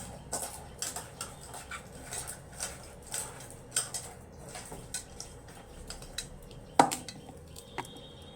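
Eggplant pieces are mixed in a bowl with salt, turmeric and a little sugar, producing irregular light clinks and soft taps up close, with one sharper knock near the end.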